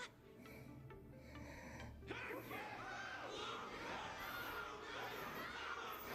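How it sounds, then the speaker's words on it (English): After a brief quieter opening, a large crowd erupts into sustained cheering and shouting, a dense wash of many voices holding steady and fairly loud to the end. "Everyone's cheering for you, Luca."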